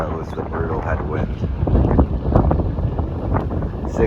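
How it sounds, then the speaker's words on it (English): Strong ocean headwind buffets the microphone during a bikepacking ride, in steady, rumbling gusts, with a roar that swells and eases throughout. "it's windy out there on the ocean"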